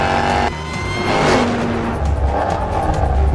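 A 600 hp 2019 Jaguar XE SV Project 8 accelerates hard, its engine note loud and close, swelling and shifting across a short burst without speech.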